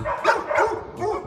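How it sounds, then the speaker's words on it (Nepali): A dog barks repeatedly from a house window in a Spanish village, three loud, close barks in a steady rhythm with no one talking. "हामीलाई कुकुरले भुकेर मारै लाग्ने"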